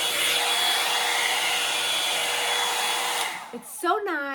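A Landot 4 in 1 hair dryer brush blows with a steady, close, airy whir for about three seconds, then cuts off, followed by a short rustle and a voice.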